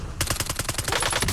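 Rapid automatic gunfire in the video game Warzone, a dense rattling burst of evenly spaced shots that starts abruptly and runs loud and close throughout.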